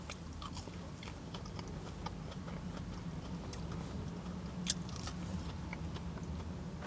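Close chewing of a potato item from the Greggs hot food counter, soft, irregular moist bites and small crunches over a quiet steady background.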